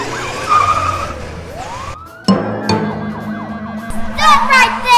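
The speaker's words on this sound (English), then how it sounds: "You know how to turn on the siren." A toy police siren during children's play with a dog and monster trucks, a loud wailing, sweeping tone with rising and falling pitch cycles, briefly cut off and then resuming with rapid warbling toward the end.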